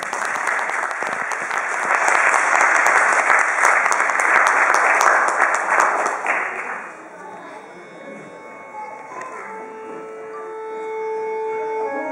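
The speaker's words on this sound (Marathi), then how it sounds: "पण त्यापूर्वी तुम्ही सगळेजण पुन्हा एकदा या लहान कलाकारांसाठी टाळ्या वाजवा" An audience claps loudly for young performers at a stage music event, dense applause lasting about six seconds before fading out into a quiet hall with faint hum and soft tones.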